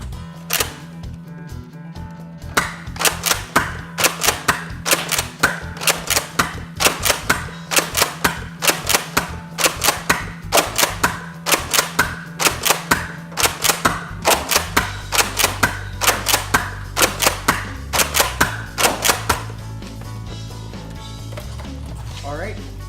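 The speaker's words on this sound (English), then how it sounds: "I'm firing with a bunch of random darts" A Nerf Accustrike Raptorstrike blaster fires a long string of mixed darts, including Elite and waffle-tip ones, with about thirty sharp, loud, evenly spaced snapping shots over twenty seconds, and a low hum joins in near the end.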